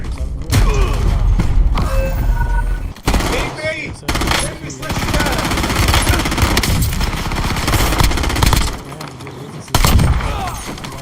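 Rapid bursts of automatic gunfire and thudding impacts crackle through a Call of Duty Warzone 2.0 firefight, loud and dense with brief gaps, while game voice lines and a player talk over the shooting.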